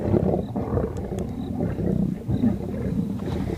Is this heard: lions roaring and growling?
yes